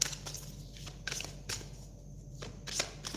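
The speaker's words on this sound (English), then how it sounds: "Let's give the cards a good shuffle here." Tarot cards given a quiet shuffle, producing soft, repeated brushing and flicking bursts roughly every half second over a low steady room hum, faint and close, with no voices.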